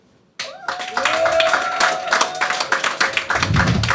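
An audience applauding at a stand-up comedy show, clapping that starts abruptly after a brief silence and quickly builds into a dense, loud round of hands, with a voice briefly audible over it.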